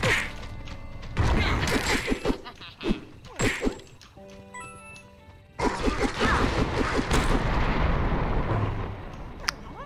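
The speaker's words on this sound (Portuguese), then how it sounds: "Quando ele gira, os tiros quicam." In the video game Supraland, an enemy's shots bounce off while it spins, heard as a string of sharp whacks and thuds with brief mechanical tones and louder bursts of game noise.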